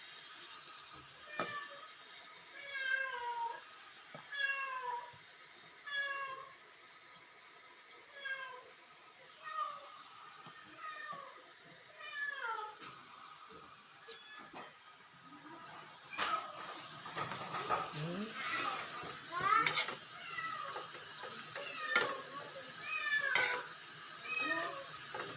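A cat meows repeatedly in short, rising and falling cries, close by and fairly faint, with kitchen clatter of dishes and pots in the background.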